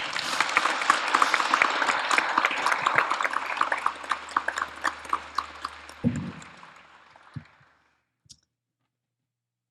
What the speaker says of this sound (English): We should take a moment to clap.